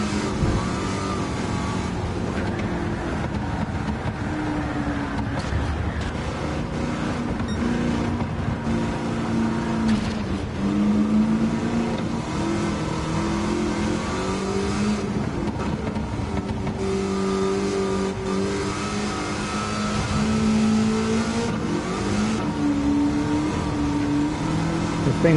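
Loud, steady V8 roar from an LS7-swapped DeLorean racing in Gran Turismo 7, rising and falling through repeated upshifts and lifts for corners, the engine heard up close throughout with no voices.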